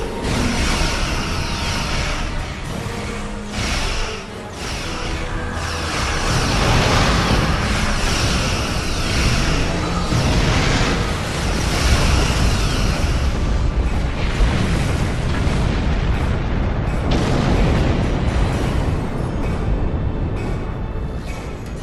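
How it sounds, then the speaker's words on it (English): A starship explodes in the Star Trek Online space game after its shields fail, with a sustained roaring blast that holds loud and dense for about twenty seconds, rumbling and crackling without fading away. "That was quite an explosion."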